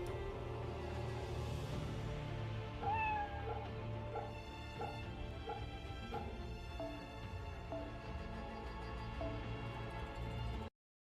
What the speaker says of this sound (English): Where the heck is the cat? Oh, here's the cat.